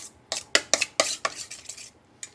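A utensil clinks and taps against a bowl in a quick series of sharp, close strikes while sour cream and lime zest are stirred together, then the sound trails off into quiet.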